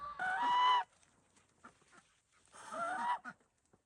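Ducks and chickens in a straw-filled coop during cold weather let out two loud, honking quack bursts, separated by softer scattered clucks and rustles close by.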